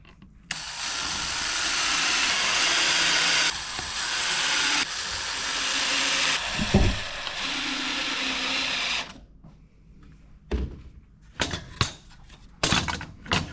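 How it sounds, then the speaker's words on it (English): A power drill drives 1-inch screws into the back of a pallet-wood Christmas decoration. Its loud, close whir runs for several seconds with slight changes in pitch, then stops and leaves a few sharp clicks and knocks. "These are some 1-inch screws that we're just going to tack into the back of this"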